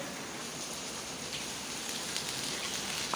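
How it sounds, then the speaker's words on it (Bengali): Steady, continuous rain falls outside in bad weather, an even close hiss of drops on surfaces with no talking. "ওয়েদারটা ভীষণই খারাপ, ভালোই বৃষ্টি হচ্ছে, বৃষ্টি কমছে না, অনবরত বৃষ্টি হয়েই যাচ্ছে।"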